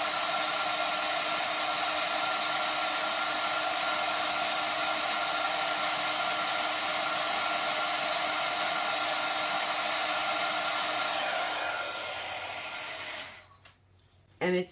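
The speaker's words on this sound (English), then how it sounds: "blows hot air, or a heat gun, or an actual embossing gun" An embossing heat gun blows hot air over an acrylic pour painting, a steady loud hiss with a faint motor whine running unbroken for about thirteen seconds before cutting off abruptly.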